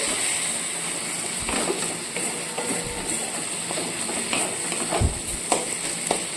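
Spice paste frying in oil in a pan for a Bengali vegetable dish, a quiet continuous sizzle with occasional clanks and scrapes of stirring, and no talk.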